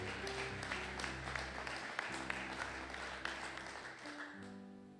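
Church congregation applauding loudly during a Sunday praise and thanksgiving service: a dense, steady wash of clapping with sharper individual claps, held under sustained organ or keyboard tones throughout.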